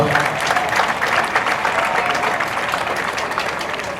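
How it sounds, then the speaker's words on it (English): Graduates clap for themselves at a university convocation ceremony, a large crowd producing a dense, loud, sustained wash of applause that fills the hall. "If you are happy and graduating, clap for yourself."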